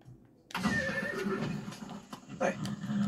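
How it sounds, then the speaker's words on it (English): A magic horse in the video game Far Cry 6 lets out a loud, close neighing whinny after a brief quiet start, with a few hoof clops and snorts around it and no speech. "Hey, a magic horse."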